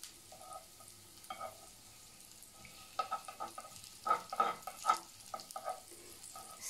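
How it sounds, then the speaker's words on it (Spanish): Garlic heats in a pan for squid-ink risotto, giving a quiet, soft sizzle with scattered crackles and stirring taps that grow busier toward the end. "Dejamos calentar un poco el ajo."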